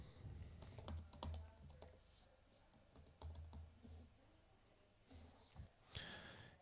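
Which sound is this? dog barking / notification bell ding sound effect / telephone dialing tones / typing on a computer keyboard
typing on a computer keyboard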